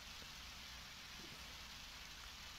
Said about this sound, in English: What, is it still raining?